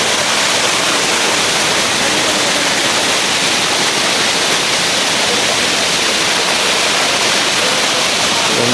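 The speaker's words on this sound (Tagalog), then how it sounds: "Ito ang Encanto Falls." Engkanto Falls waterfall roaring steadily and close, a dense unbroken rush of falling water that holds at the same loud level throughout with no talk.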